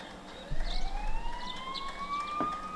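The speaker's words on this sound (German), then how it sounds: "Sirenen in der Nähe." A police siren in the video game Persona 4 wails with a steadily rising tone, heard moderately loud and slightly distant over a low background hum.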